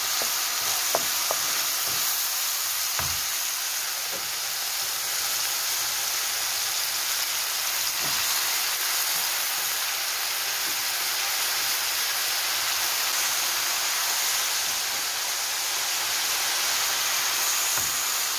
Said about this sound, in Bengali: আমি এখানে করলাটা দিয়ে দিলাম, দিয়ে এইটাকে এখন ভালো করে আমি ভেজে নেব।